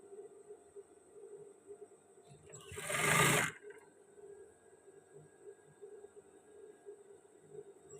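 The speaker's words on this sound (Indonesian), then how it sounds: "ini kita jahit juga bahu yang sebelah kanan" A sewing machine stitches the right shoulder of a men's shirt in a short burst lasting about a second, surrounded by a low steady room hum before and after.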